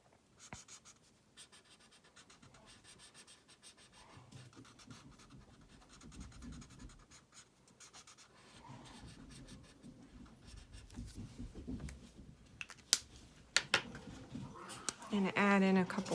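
A pen draws on paper in soft, scratchy strokes that grow busier and louder toward the end, with a voice faintly present in the background.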